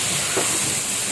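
Polao rice hitting hot oil with browned onions gives a loud, steady, close hissing sizzle that fills the whole short moment without pause.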